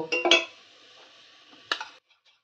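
Marinated mutton with spices is stirred in a pan for pulao, with a couple of clattering scrapes and clinks of the utensil against the pan, separated by a softer sizzling stretch.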